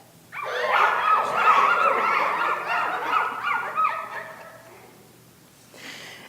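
A storyteller's voice imitates a dog barking, a string of close, pitched woofs and yelps lasting several seconds before trailing off, followed by a brief faint sound.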